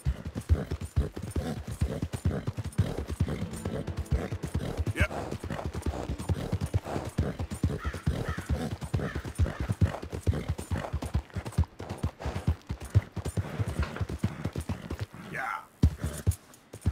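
Horse hooves clip-clop at a steady trotting rhythm in Red Dead Redemption 2, continuous, fairly close and moderately loud, with occasional faint voice and game sounds beneath.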